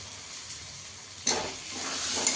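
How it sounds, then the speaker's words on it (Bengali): Two tomatoes drop into frying masala for chicken curry: a faint hiss gives way to a sudden burst of sizzling that stays louder and steady to the end, close by. "এখানে আমি 2টো টমেটো দিয়ে দেবো।"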